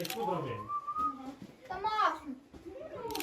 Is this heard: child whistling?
yes